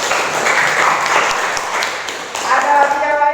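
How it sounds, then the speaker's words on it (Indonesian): Students in a classroom clap in a short burst of scattered applause, with voices chattering over it near the end. "Beri tepuk tangan"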